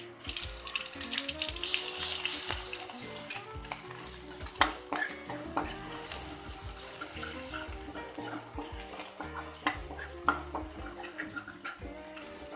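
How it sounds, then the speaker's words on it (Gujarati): Ginger, chili and garlic paste hits hot oil already spitting with mustard seeds, cumin and curry leaves, producing a loud, busy sizzle with crackling bursts and a few clanks throughout, no talk. "હવે તેમાં આદુ, મરચાં, લસણની પેસ્ટ નાખીશું."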